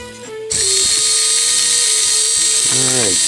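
The motor and gears of a 2015 R2-D2 toy bubble machine start with a click and whir continuously, a steady close mechanical grinding hum with a brief pitch sweep near the end; a voice is heard before it kicks in.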